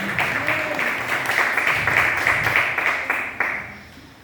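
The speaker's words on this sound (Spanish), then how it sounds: "Le damos un fuerte aplauso al Señor en esta noche" A church congregation applauding during an evening service, a dense continuous patter of many hands clapping that swells and then fades away near the end, with a faint voice beneath.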